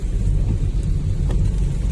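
Steady rain drums on a moving vehicle during a delivery drive, with a deep continuous rumble of thunder and road noise underneath; no one speaks.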